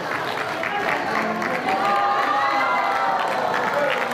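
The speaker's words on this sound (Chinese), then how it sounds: "立委们用掌声和拥抱迎接劳苦功高的行政院长苏贞昌" Legislators at the Legislative Yuan applaud Premier Su Tseng-chang, a dense, close burst of clapping and crowd noise mixed with voices that holds steady for a few seconds.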